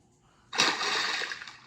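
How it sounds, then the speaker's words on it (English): Boots splashing through spring mud puddles, a sudden wet slosh that starts sharply and continues as sustained splattering, close and moderately loud, with no talking. "And that's the sound of boots splashing in spring."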